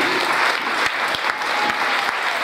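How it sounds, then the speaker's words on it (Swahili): A church congregation claps steadily during a sermon, a dense, continuous wash of applause with scattered louder claps, fairly loud and close, with no talk. "Mpe Bwana makofi mengi sana"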